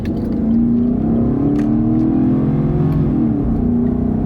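A pickup truck engine hums and rises steadily as it accelerates, with a brief dip at a smooth gear shift, heard from inside the cab.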